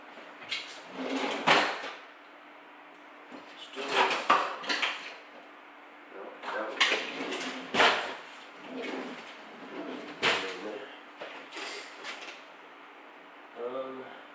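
A spoon stirs cereal in a bowl, giving repeated scraping clinks and knocks in irregular bursts, close and moderately loud, with quiet gaps between strokes.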